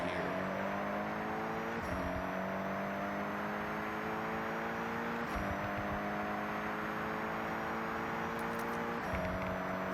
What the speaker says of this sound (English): Alright, so we are here at our top speed test in our 700 horsepower GRGT.